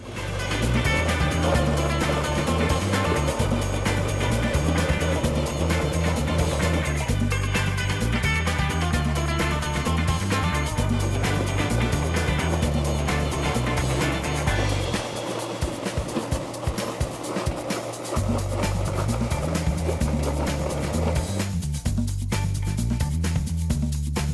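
An apple grinder runs steadily to pulp apples for pressing, a loud continuous motor drone with a low rhythmic rumble and clattering throughout, briefly dipping partway through.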